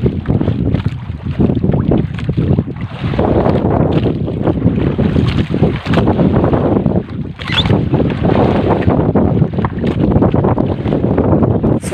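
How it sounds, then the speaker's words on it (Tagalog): Loud, steady amihan wind buffets the microphone at sea, roaring continuously with gusts and a constant low rumble, no voices present. "Medyo maingay yung hangin eh. Medyo malakas dahil yung hangin natin ay hangin amiyan."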